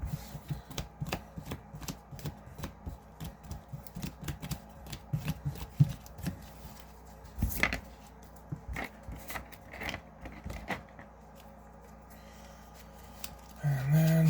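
Hands shuffling a Magic: The Gathering deck of cards, a steady run of soft close clicks and riffles with brief pauses, ending in a louder shuffle.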